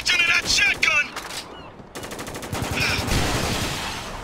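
Shotgun blasts and rapid gunfire in the war shooter Spec Ops: The Line, loud and close, with several sharp bursts early on followed by a denser sustained volley.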